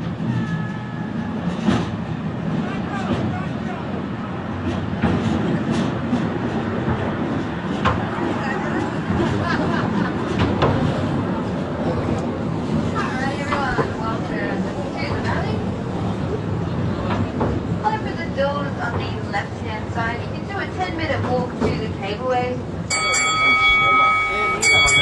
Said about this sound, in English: So this is the funicular railway.